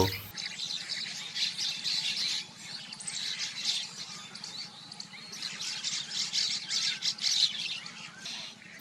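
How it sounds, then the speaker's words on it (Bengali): Bank mynas at a sandy riverbank nesting colony keep up a busy chorus of chirps and harsh squawks, many birds calling at once, fairly faint and unbroken, with no voices. "চারিদিকে শালিক পাখির কিচিরমিচিরে মুখরিত"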